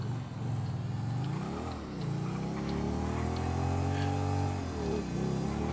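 Motorcycle in GTA V launching off the line with a turbo, its engine revving up through rising pitch sweeps in steady, loud bursts close by, with a brief dip between gear changes.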